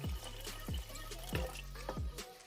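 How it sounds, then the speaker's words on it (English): Water poured into a pot of curry chicken with dumplings and potatoes, heard close as a series of four or five plopping, dripping splashes at a steady rhythm, with no talk. "Now I'm going to add some more water"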